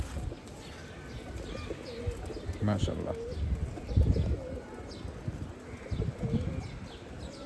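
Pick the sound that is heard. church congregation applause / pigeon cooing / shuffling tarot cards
pigeon cooing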